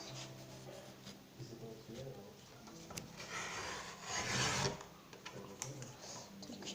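Material being cut into large strips, a dry rasping, rubbing scrape that rises and falls in uneven strokes, with a louder burst in the middle, while a voice murmurs quietly alongside.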